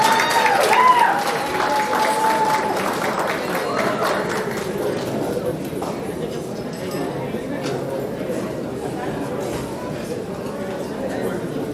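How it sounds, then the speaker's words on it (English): Audience applause at the Black Diamond Awards 2024 ceremony as an award recipient walks to the stage: a dense, steady wash of clapping from a large crowd, strongest at the start, with voices and cheering mixed in. "Let's give her a round of applause as she walks to the stage."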